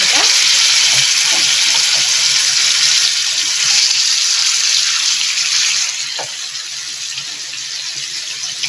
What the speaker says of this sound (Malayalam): എണ്ണ ചൂടായിട്ടുണ്ട്. നമുക്ക് ഓരോ പീസ് അതിനകത്തോട്ട് വെച്ച് കൊടുക്കാം.